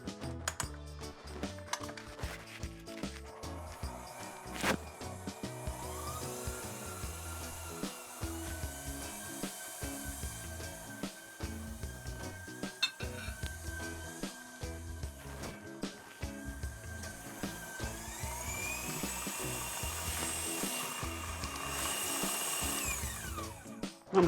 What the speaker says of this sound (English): we're gonna put this in our mixer and we're gonna cream this together